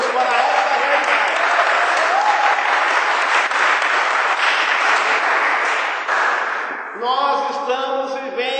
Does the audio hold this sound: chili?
no